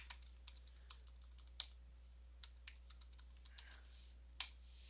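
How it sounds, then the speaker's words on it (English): A password goes in on a computer keyboard as a quiet string of irregular clicky keystrokes, some harder taps standing out, over a steady low electrical hum, with no talking. "I'm just gonna type my password."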